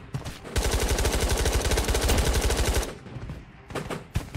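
Loud automatic gunfire rattles in a long rapid burst in Ghosts of Tabor, followed by a few scattered single shots and fainter bursts.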